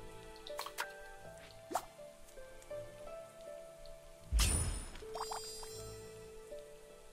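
Water is added while cooking in the Battle Chef Brigade video game, heard as scattered quiet drips and watery plops with one louder splash midway, over faint game tones.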